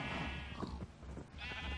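A sheep in the Minecraft game with the Better Than Wolves mod bleats in two drawn-out, wavering calls, one at the start and one near the end, close and clear with no speech.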